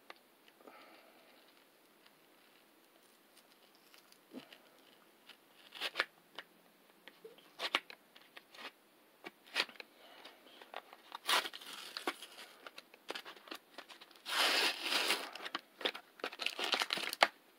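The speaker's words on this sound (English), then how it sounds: "I actually have to open this with a knife." A package being cut open with a knife, soft crinkling and scraping of packaging with sharper rips and bursts of cutting near the end, quiet and close with no talking.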